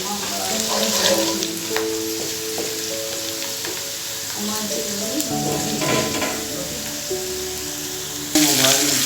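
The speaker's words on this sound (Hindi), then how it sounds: "चलिए हम इसको मिक्स कर लेते हैं, हिलाते जाते हैं साथ साथ।" Masala sizzles steadily on a medium flame while being stirred for kaleji, with a continuous frying hiss, scattered spoon scrapes and tonal clinks against the pan, close and even, rising abruptly louder near the end.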